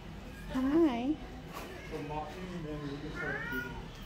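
Cats and kittens at an animal shelter give a loud rising meow up close, then softer mewing calls further back, with a person's voice greeting them in between.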